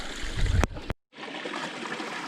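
Water trickles steadily through a Sawyer squeeze filter into a collapsible bag at a trailside stop on the Appalachian Trail in Maryland, a continuous close, soft flow broken by a brief silent gap near the middle.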